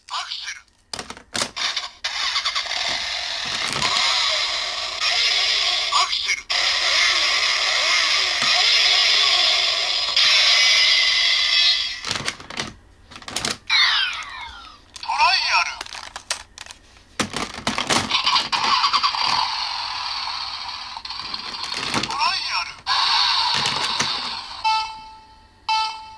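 A DX Accel Driver belt toy for Kamen Rider Accel plays loud electronic transformation effects with music and announcements, broken by clicks and clunks as the memory is swapped out to switch to the Trial form.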